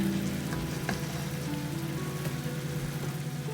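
Stuffed bell peppers with masala sizzling in a covered pan over low heat, a steady dense crackle and hiss like rain, close and continuous with no talk.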